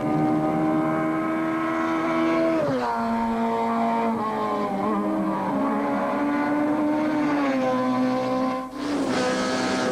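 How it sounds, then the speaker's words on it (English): The Sasol Volkswagen Golf rally car at a 2002 rally flies past up close, its engine screaming and climbing in pitch, dropping sharply at gear changes, then winding up again to a loud high-revving howl. "the Sasol Golf of Keenan Urries flies past and assumes the lead"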